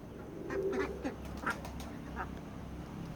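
Ducks quack in bursts on a duck farm, a few calls fairly close over a steady low outdoor hum, with no talking.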